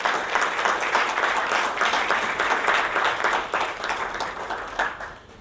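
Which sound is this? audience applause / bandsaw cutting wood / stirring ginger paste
audience applause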